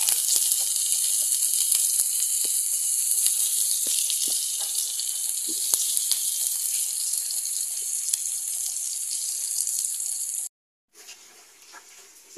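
Garlic, onion and tofu sizzle steadily in a hot pan, a loud continuous frying hiss that runs unbroken for about ten seconds, then cuts out briefly before a quieter sizzle resumes.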